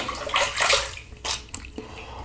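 Water running and splashing as shave soap is rinsed off a standard aluminum safety razor, a loud gush at first, then fading to brief splashes and drips.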